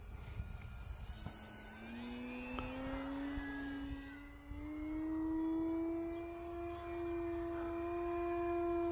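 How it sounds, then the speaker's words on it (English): An E-flite Extra 300 RC airplane flying knife edge passes, its electric motor a whining tone that climbs steadily in pitch as it approaches, continuous and moderately loud against outdoor background noise. "This airplane is flying so good."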